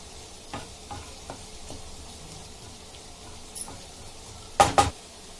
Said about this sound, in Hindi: अभी सब मिक्स करेंगे, अच्छे से मिक्स करेंगे और खुशबू आने तक अच्छे से भूनेंगे